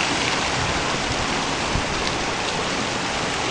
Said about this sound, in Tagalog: ito na yung may pinakamalakas na ano, ulan sa kahangin. Grabe yung ulan ngayon.